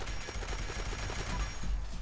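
Rapid bursts of gunfire from an explosive railway rifle in Fallout 76 crackle in quick succession over dense background noise, with a fast, steady rhythm throughout.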